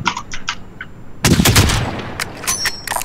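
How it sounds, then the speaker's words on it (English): Gunfire in an online shooter game as a bounty target is attacked: a sudden loud volley of several sharp shots bursts in after a quieter stretch, followed by scattered further shots and game effects. "Oh, someone is shooting him."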